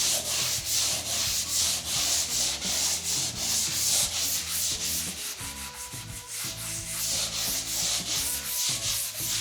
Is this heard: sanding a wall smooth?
yes